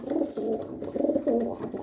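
Pigeons coo steadily and close by in low, rolling bursts for about two seconds, with no voices.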